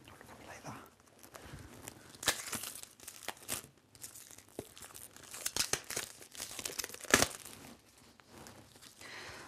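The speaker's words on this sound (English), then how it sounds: "If I open this very carefully, because I don't want to hurt the cards." Packaging on a Sentinels of the Multiverse card game box is torn open slowly and carefully in repeated crinkly rips and crackles, close and fairly quiet, with soft talk in between.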